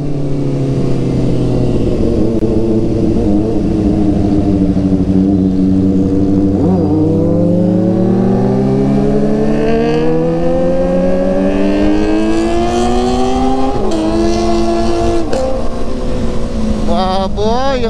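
Loud motorcycle exhausts, including Kawasaki ZX4RR and ZX6R sport bikes on a group breakfast ride, rev and drone continuously up close, pitch climbing and dipping with throttle changes over steady wind roar.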